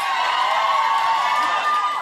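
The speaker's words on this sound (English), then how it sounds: "Don't cheer every time you see him." Studio audience on a British TV chat show cheering and whooping for actor Vin Diesel, a dense steady roar of crowd voices that holds at full level throughout.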